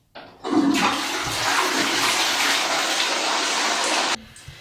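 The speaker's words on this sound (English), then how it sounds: "And we also need to test the flush." A toilet flush in a domestic bathroom with some limescale below the waterline: a loud, close rush of water that starts abruptly, holds steady for about four seconds, then cuts off, with no talking.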